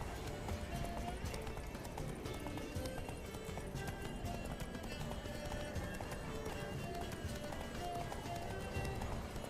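A horse gallops in The Witcher 3 video game, its hooves clip-clopping in a fast, steady rhythm that runs the whole time, close and continuous, over a busy game soundscape.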